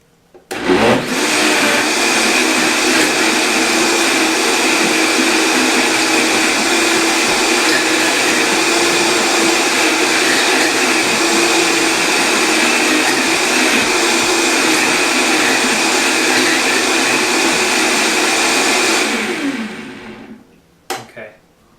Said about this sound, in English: let's just blend it one more time to get the honey inside